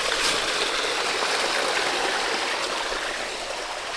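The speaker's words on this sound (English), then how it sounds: "I managed to get the water out of the barrel" Water drains from a plastic barrel in a steady, rushing stream, a continuous broadband gush heard close and alone without any voices.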